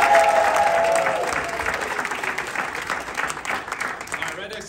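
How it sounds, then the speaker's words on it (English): Crowd applause at the 2022 US Air Force Thunderbirds air demonstration squadron introduction, a steady wash of clapping that starts under a speaking voice and carries on alone, gradually easing off. "So huge round of applause for Threat."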